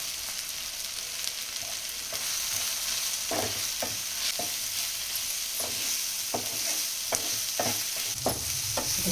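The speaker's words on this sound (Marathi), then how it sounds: "सगळे मसाला चांगला तळून झाला" Spices frying with softened onions in oil for hotel-style egg bhurji: a continuous close sizzle with repeated spatula taps and scrapes that come more often toward the end, with no voices.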